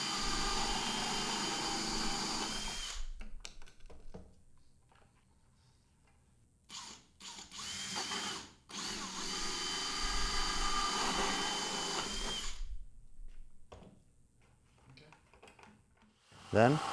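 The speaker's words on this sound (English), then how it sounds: "I'll start by aligning the hole saw as close as I can to the corners and cut a hole on each side." A hole saw bores holes through the side of a plastic 5-gallon bucket. Loud, steady drilling whirs in a few separate bursts, with quiet pauses and brief clunks between cuts.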